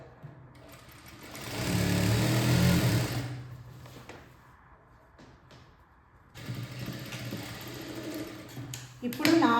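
A sewing machine stitches baby frock fabric, a steady mechanical whir that runs loud near the start, drops away, then resumes; someone speaks over parts of it.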